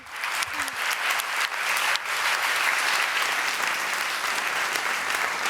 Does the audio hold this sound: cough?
no